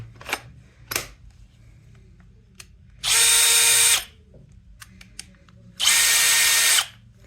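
A Dnipro-M CD-201HBC cordless drill-driver whirs up in two short, loud bursts of about a second each, close by, with small clicks and handling knocks in between.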